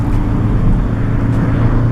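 Ford Focus ST3 diesel engine pulls hard under acceleration, a steady loud low drone from inside the car with no talking.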